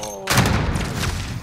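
Gunfire in the Warzone video game: a sharp burst of shots and booming impacts erupts after a quiet moment, then rumbles on loudly and densely, with a brief burst near the end.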